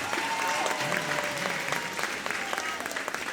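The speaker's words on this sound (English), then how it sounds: "Give them a round of applause" Audience applause at a middle school popular music concert, dense and continuous clapping throughout with a faint voice briefly audible underneath.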